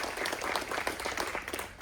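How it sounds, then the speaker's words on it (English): Audience applause at a ribbon cutting for a Maryland wine house, a steady crowd of clapping hands that carries evenly through the whole moment with no voices over it. "I want to thank all of you for giving those rounds of applause"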